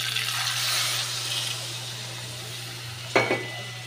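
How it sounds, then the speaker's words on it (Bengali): Water poured into a pan of sautéed cauliflower for a lau ghonto dish, a soft rushing wash early on, then a short sharp hiss and clatter near the end over a steady background hum. "এবার আমি জল দিয়ে দেবো একটু।"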